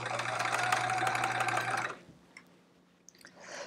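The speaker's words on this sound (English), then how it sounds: "The machine, Joe, is doing great with the new belt" A sewing machine with a new belt and motor stitches rows of a chevron quilt, running steadily and loudly for about two seconds with a low motor hum, then stopping, leaving faint handling clicks.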